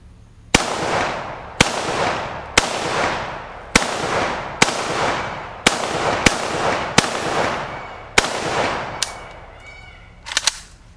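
WASR RH-10 Romanian Cugir AK-47 with wood furniture test fired outdoors, nine sharp loud rifle shots at an irregular steady pace, each trailing off in a long echo, a faint metallic rattle at the end.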